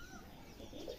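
Rajshahi Giribaz pigeons give a soft, low coo at close range in a brief, quiet moment, with faint background noise and no talk.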